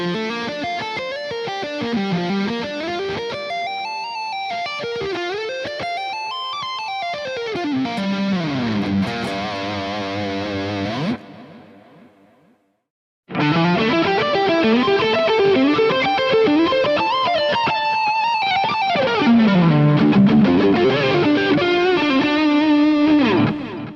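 An electric guitar played through distortion and effects runs a fast tapped lick with string skipping built on a minor 9 shape, with rising and falling note runs, a short pause, then the lick repeated, loud and alone.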